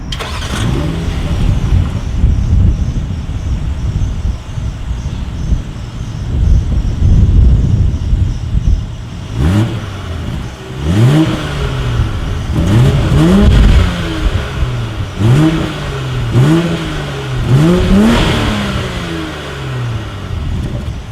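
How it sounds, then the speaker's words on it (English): A 2020 BMW X5 SUV's exhaust rumbles at idle, then a series of sharp revs rise and fall in quick succession, loud and close. "As always, here is that exhaust clip."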